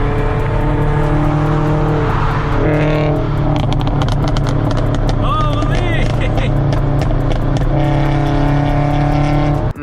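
Car with a full exhaust and PLM unequal-length catless headers, a steady loud droning rumble with shifting tones and revving throughout, under someone talking.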